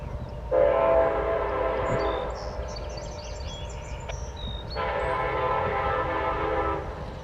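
A freight train of empty coal cars led by a BNSF SD70ACe locomotive sounds its horn in two long blasts over a steady rumble of rolling railcars, with faint bird chirps between the blasts, in Deshler, Ohio.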